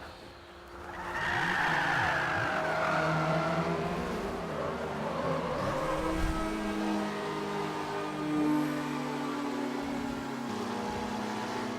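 Race cars in Forza 5 roar past with engine drone and sustained tire squeal as one car is spun out on track, loud and continuous, with no talking.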